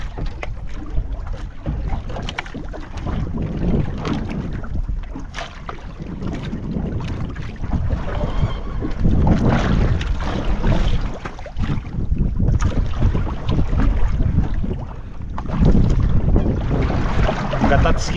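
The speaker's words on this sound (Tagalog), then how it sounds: "Kapihit-pihit ang bangka." A small boat rocks on choppy water, giving a continuous low rumble of slapping water and gusting wind against the microphone, with faint voices now and then.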